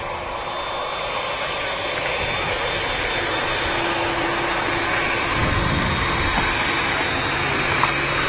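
An aircraft arriving at Manchester Airport produces a broad, steady engine roar that swells slightly toward the end, heard at a moderate distance with constant loudness.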